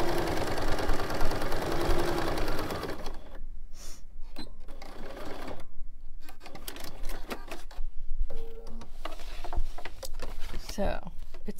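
A sewing machine stitching a fabric book runs in a fast steady whir for about three seconds, then gives way to rustling, handling clicks and short bursts of activity while a person talks.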